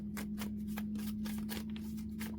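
A deck of tarot cards is shuffled by hand in quick, soft riffling bursts, faint and close over a low steady hum.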